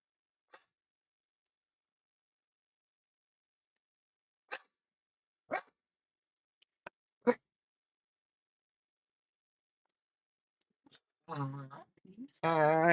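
A dog barks indoors in a few sharp, isolated bursts spaced seconds apart in a quiet room, followed by a person talking near the end.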